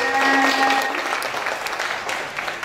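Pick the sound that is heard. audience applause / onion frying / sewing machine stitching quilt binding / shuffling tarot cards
audience applause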